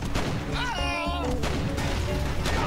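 Explosions and gunfire in the video game Guns Gore and Cannoli 2, loud dense blasts and shots filling the whole moment, with a brief rising whistle-like tone in the middle of the chaos.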